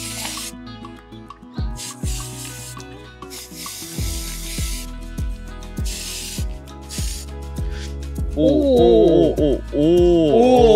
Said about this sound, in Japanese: ここにスギーズこれちょっとスプレーで塗って、はい、終わりにしたいかなと思います。